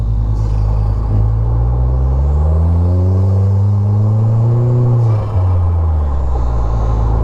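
A Rewaco trike's low engine rumbles steadily close by, its pitch rising and falling gently as it cruises along, with no talking.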